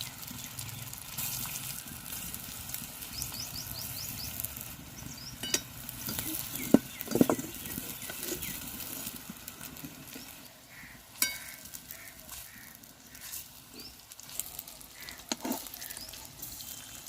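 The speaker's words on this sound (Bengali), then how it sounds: "এরপর আমি কোপ্তাগুলো সব ভেজে নেব একে একে" Egg and raw green banana koftas fry in oil in a wok, a soft, steady sizzle and bubbling hiss going on without a break, with a few faint clinks and knocks.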